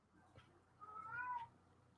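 A house cat cries with a single drawn-out meow, quiet and close, against a hushed indoor background.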